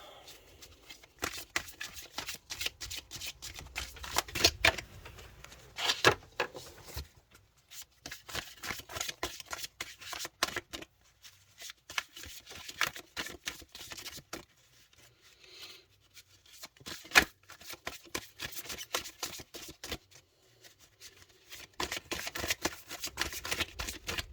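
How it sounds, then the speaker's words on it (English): Oracle cards being shuffled in repeated bursts of crisp riffling and flicking, close up, with brief pauses between rounds. "Give it a few more shuffles and I will split."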